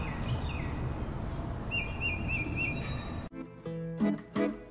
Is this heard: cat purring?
no